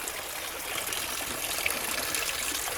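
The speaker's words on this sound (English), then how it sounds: "The sound of the water dropping is peaceful, just like rain on a night" Water trickling and splashing inside a cave, where a small stream flows down over rock, giving a steady, close, continuous wash of splashy noise with no voices.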